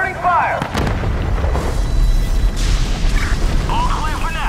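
Bursts of gunfire and heavy booms in the Gotham Knights video game, loud and continuous over a rumbling battle backdrop, with chirpy game effects cutting in.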